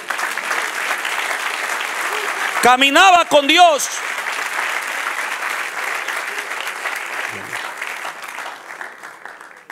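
Sustained applause from a large church congregation fills the room, with a brief spoken phrase and a short sung line rising over the clapping.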